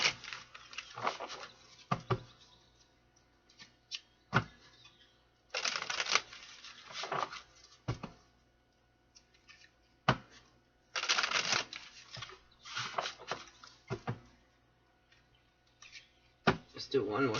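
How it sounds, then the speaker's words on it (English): Tarot cards are shuffled in repeated bursts of riffling and flicking, close and crisp, separated by short pauses and single card taps across the stretch. "Let's do one more shuffle."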